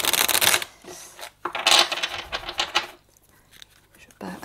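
Oracle cards shuffled for a spiritual reading, with the archangel oracle deck, giving bursts of fast papery riffling and patter, close and fairly loud, in separate runs with short pauses between them and no talk.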